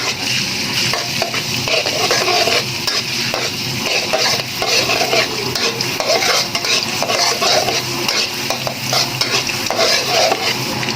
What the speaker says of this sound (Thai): จียวกระเทียมให้เหลืองหอม